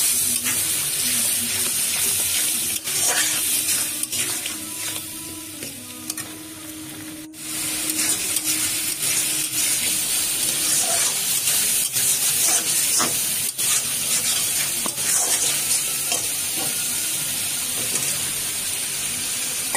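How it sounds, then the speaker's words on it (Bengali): Spices with turmeric and salt, loosened with a splash of water, sizzle and hiss steadily in a pan while being stirred and sautéed, a close, continuous frying noise with scraping and a brief lull midway. "আর একটু জল দিয়ে এবার কষিয়ে নেব ভালো করে।"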